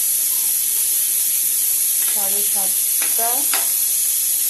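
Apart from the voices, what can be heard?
eggplant frying in a pan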